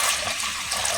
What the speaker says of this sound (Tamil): இப்போ வந்து பார்த்தீங்கன்னா தண்ணி சேர்த்துக்கலாம்.